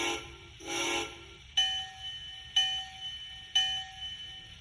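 A BlueRail sound board in a model Climax locomotive gives two short, breathy whistle blasts, followed by three clear ringing bell strikes at an even pace over a faint background hum.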